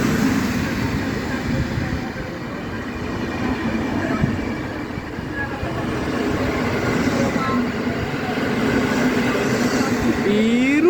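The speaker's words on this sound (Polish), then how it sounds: "Odjazd ze stacji Piła Główna." EP07 electric locomotive hauling the eight-car Intercity Gwarek out of Piła Główna station, a steady rolling rumble with faint wheel squeal and clatter near the end, while a voice talks briefly over it.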